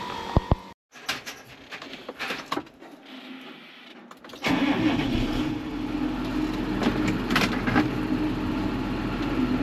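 A diesel Jeep engine starts after a few clicks and clunks, then settles into a steady, close low rumble of idling that continues to the end.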